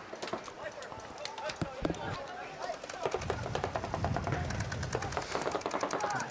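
Paintball markers fire during a P8ball tournament match on a Texas field, rapid bursts of sharp pops crackling in quick succession, some near and some distant, under ongoing commentator talk.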